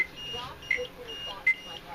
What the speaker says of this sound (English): we can't get that to stop making that little beeping noise